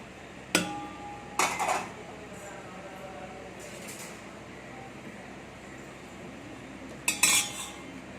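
A spoon clinks against a bowl while multigrain rava dosa batter is mixed, giving a few sharp metallic knocks near the start and again near the end, separated by a long stretch of quiet room hiss.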